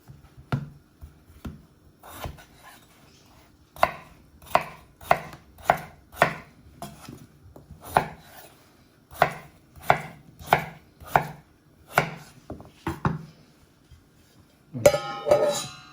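A knife chops potatoes on a cutting board while a potato and parsley purée is prepared for calf's liver, with loud, close, irregular knocks in bursts and a quick rapid flurry of chops near the end.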